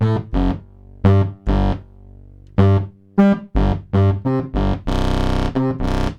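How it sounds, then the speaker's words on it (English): A PWM Malevolent synth played through its built-in drive circuit gives short, buzzy, distorted notes in a choppy rhythm, ending on one longer sustained gritty tone, loud and alone. "it's like a bit like having a sort of Boss effects pedal, drive pedal inside the unit."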